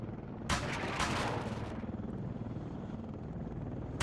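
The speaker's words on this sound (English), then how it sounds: "Start launching off some of my rockets here into these trees and kind of close to that road." An Arma 3 helicopter looses a burst of rockets, a loud rushing salvo that fades after about a second, over the steady drone and thump of the rotor continuing throughout.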